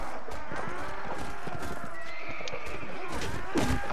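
A horse whinnies loudly amid clopping hooves on a Mount & Blade Warband battlefield, over a constant din of fighting in the background.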